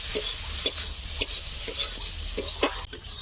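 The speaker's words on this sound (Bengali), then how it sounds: "কাঁচা চিংড়ি দিচ্ছি ভালো করে কষে নিতে হবে" Raw prawns sizzle steadily in a frying pan while being stirred, with regular scraping strokes of the spoon against the pan about every half second over a constant frying hiss.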